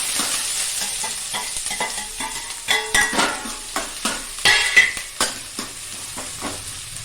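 Onions and green chillies fry in a pan while a spoon stirs them, giving steady sizzling broken by repeated scraping and clinking strokes against the metal. The sound is close and alone, with no talking.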